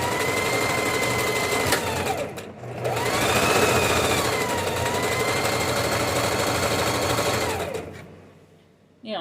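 A sewing machine stitches a seam with a continuous fast mechanical whir. It pauses briefly near the start, then runs on and slows to a stop at the end.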